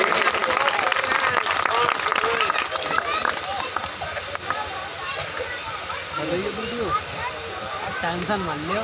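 Applause from an audience at an outdoor Ambedkar Jayanti community program in Hamirpur welcomes a donation announcement, a dense steady clatter of clapping running throughout with a crowd murmuring and voices faintly underneath.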